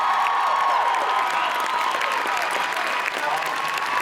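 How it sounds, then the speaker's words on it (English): A crowded convention panel audience claps and cheers steadily for four panelists, a dense, loud wash of applause that holds evenly throughout. "let's give them a big round of applause"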